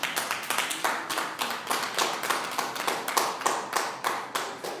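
A church congregation claps in a brisk, steady rhythm, many hands striking together in repeated sharp beats close up, with little talk over it.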